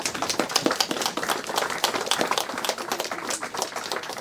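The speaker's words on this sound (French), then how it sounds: "on peut l'applaudir." Audience applause for a local pharmacist at the inauguration of a health centre, a dense steady patter of many hands clapping close by, continuing unbroken from start to finish.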